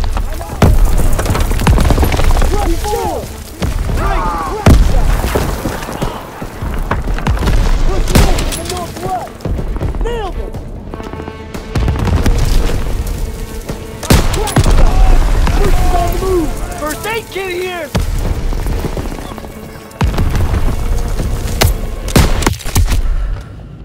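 Call of Duty WWII combat: repeated heavy grenade blasts and bursts of rifle and machine-gun fire ring out loud and close, with soldiers' shouted voices mixed in between the booms.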